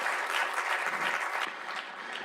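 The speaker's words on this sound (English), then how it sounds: "Can we start with a huge round of applause for Tim, Joe, and the rest of the team for organising this conference?" A conference audience in Canberra claps together in a brief, steady round of applause that eases slightly toward the end.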